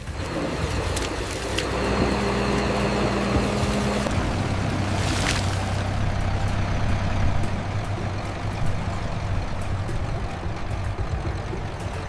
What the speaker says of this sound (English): The tractor starts to struggle.